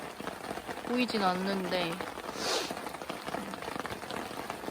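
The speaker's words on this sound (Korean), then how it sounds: "비가 엄청 와요." Heavy rain pours steadily at a campsite in Wanju, Jeollabuk-do, a dense patter on surfaces all around while a person talks quietly over it.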